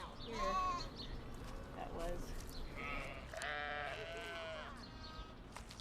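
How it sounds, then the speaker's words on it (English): Sheep on a western Colorado ranch bleat repeatedly and fairly close, several overlapping calls, while a person speaks briefly. "We raise sheep"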